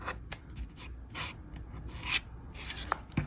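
Fabric is trimmed along a ruler to square a 2.5-inch pinwheel quilt block, giving a faint, close scraping rasp with a few soft ticks.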